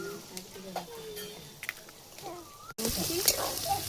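Potatoes and egg frying in a pan for chow mein, with a soft sizzle that jumps louder partway through, joined by clinks and scrapes of a utensil against the pan.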